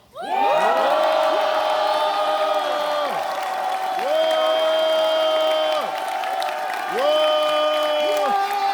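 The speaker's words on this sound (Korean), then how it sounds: "한번 환호합시다" A large crowd at a party launch rally cheers and shouts loudly and steadily, rising into several big swells of voices. Over it come sustained, sliding tones that resemble a chant or an amplified horn.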